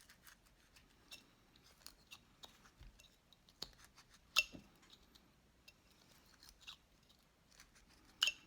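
Quiet, sparse cuts and clicks as a knife carves wood shaping a small cowboy hat for a bolo tie, with occasional sharper snaps between soft scraping.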